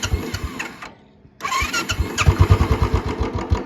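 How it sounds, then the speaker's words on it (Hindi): A Royal Enfield Bullet 350 motorcycle with a short bottle silencer and C-bend pipe, already warm from riding, is self-started. The starter cranks, there is a short pause, then the engine catches and settles into a loud, close, thumping single-cylinder idle. "अभी मैं इसको चला के लाया था तो सेल्फ से स्टार्ट कर लेता हूँ।"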